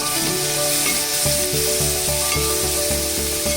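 Kerala chicken curry masala with tomato being stirred in a pan gives a continuous frying hiss under a rhythmic background music track, with no voices.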